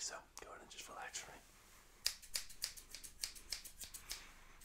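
Scissors snip hair in an intimate ASMR haircut, starting with soft rustling and whispery handling, then a run of crisp, evenly spaced close-up snips, quiet and near.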